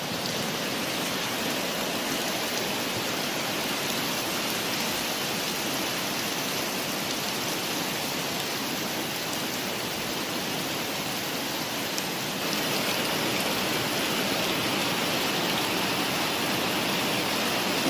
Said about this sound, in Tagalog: Ayan, umuulan dito sa amin